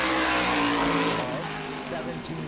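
Tom Baldwin's NASCAR Whelen Modified race car roars loudly through a qualifying lap at New Smyrna Speedway, its engine note shifting as it sweeps through the turn, with a commentator talking over it.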